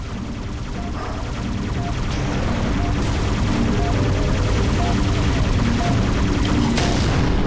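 Continuous dense weapon fire rattles through a Halo firefight, with loud, steady bursts and booms layered over a constant rumble that holds for several seconds.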